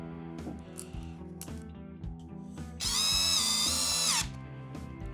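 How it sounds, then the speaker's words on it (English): A cordless power drill pre-drills a hole, its whine steady and close before rising into a louder, high-pitched spin for about a second and a half, then dropping back. "I'm going to pre-drill a hole."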